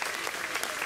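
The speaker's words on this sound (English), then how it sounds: "A round of applause for them." Audience clapping dense and steady throughout a short burst at an outdoor show, a crowd's applause fairly close and loud.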